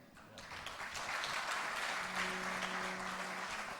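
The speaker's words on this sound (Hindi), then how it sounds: "हम ताली बजा करके उनका खूब सम्मान करें" Steady, fairly faint audience applause at a spiritual discourse gathering in Chennai, a dense wash of clapping held evenly from start to finish.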